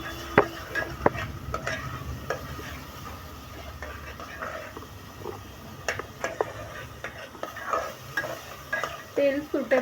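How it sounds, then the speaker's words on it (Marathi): A ground masala paste sizzles and fries in hot oil for chicken curry while a spoon scrapes and stirs the pan, with soft sputtering and irregular clinks of metal on the pot throughout. "हा मसाला तेलात परतून घ्यायचा आहे."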